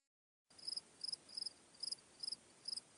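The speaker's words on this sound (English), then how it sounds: "I actually heard crickets." A cricket chirps in a steady, regular rhythm of short pulsed trills after a moment of silence, soft and alone.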